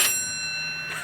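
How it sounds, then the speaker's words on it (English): An antique doorbell from the 1900s in a 123-year-old house gives a single bright metallic ring that decays slowly over about a second. "this doorbell does work"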